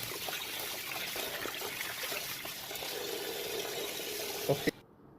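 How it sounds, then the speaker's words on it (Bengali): Running water rinses pieces of beef, a steady close trickle and splash that continues throughout before cutting off abruptly near the end. "সুন্দরভাবে মাংসগুলো ধুয়ে নেবেন একবারে পরিষ্কার করে"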